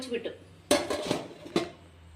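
A metal lid drops onto a steamer with two bright clanks a moment apart, amid light kitchen clatter and a faint background voice.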